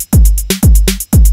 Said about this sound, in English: So that is how you make a beat on Logic